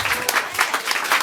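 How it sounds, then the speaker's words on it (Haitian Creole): Close, loud audience applause with distinct bursts of clapping rising and falling across just over a second. "On nous applaudit."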